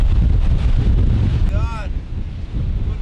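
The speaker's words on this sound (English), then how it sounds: "It's very windy." Strong wind on a boatyard beside the water, buffeting the microphone in a loud, continuous low roar with brief gusty surges, with no talk during it.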